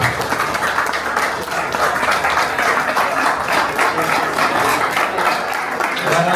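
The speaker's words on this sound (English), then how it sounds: "We're gonna let one more time a round of applause for the Noes family for hosting this great event" Applause at a bourbon dinner event hosted by a master distiller family at their Kentucky home, a steady crowd of clapping hands running throughout with voices mixed in.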